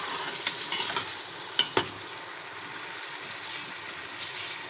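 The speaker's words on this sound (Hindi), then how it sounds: "हम अपने बीफ को अच्छे से फ्राई कर लेंगे। अच्छे से चलाते रहें और फ्राई करते रहें।" Bone-in beef sizzles and fries in a pot while being stirred, a soft steady hiss with occasional scraping clinks of the spoon, fairly quiet and close.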